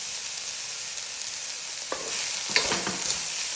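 Spices are stirred in a hot frying pan over a steady background sizzle, with a few scraping clinks of the utensil against the pan in the second half, close and moderately loud.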